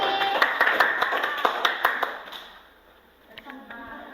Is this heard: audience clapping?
yes